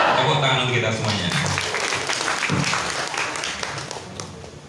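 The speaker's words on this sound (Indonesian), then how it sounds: "Tepuk tangan untuk kita semuanya" Audience at an Islamic foundation's board inauguration ceremony claps, a dense wash of applause that tails off gradually, with a voice speaking over the start.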